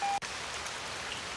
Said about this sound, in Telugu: వర్షం బాగా పడుతున్నట్టుంది